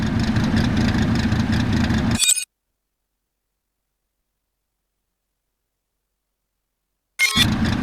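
A car engine in Driver: San Francisco rumbles low and steady for about two seconds as the car reverses, then cuts to silence for several seconds before a brief burst of engine noise returns at the end.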